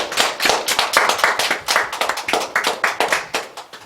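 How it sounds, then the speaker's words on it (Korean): A church congregation claps during a Korean Parents' Sunday service. The rhythmic, fairly loud hand claps come in quick, distinct beats, close and sharp, with a steady pulse and no talking. "우리에게 은혜 주신 하나님께 영광의 박수 올려드리겠습니다."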